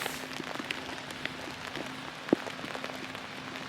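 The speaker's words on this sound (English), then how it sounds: "It's quite rainy, isn't it?" Rain falls at Glencoe Mountain Resort in Scotland with a faint, soft patter and scattered drops, plus one sharp tap partway through, heard quietly with no voices.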